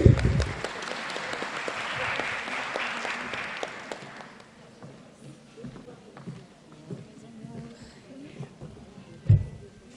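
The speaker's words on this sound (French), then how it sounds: "sous vos applaudissements s'il vous plaît" Audience claps at a graduation ceremony, fairly loud at first and then fading to scattered claps and room noise, with a sharp thump near the end.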